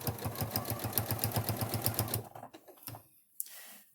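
Close sewing machine stitching a housecoat with a longer stitch length, a rapid rhythmic clatter for about two seconds, then stopping, followed by a few faint handling knocks.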